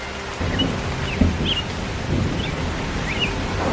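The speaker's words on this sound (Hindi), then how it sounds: "अरे ये तो बारिश की शुरुआत हो रही है।" Cartoon rain begins to fall, a broad steady hiss of drops setting in after a brief quiet start, moderately loud and continuous, with a few faint chirps on top.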